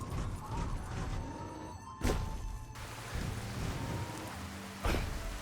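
Rain falls steadily in the Fallout: Tale of Two Wastelands game world, a constant wash of patter with faint mechanical ambience beneath and two sharp louder bursts that stand out briefly from the downpour.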